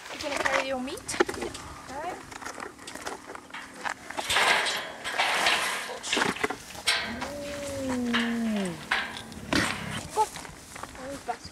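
High chirping calls and yelps of cheetahs rise and fall among rustling and movement, with people talking nearby.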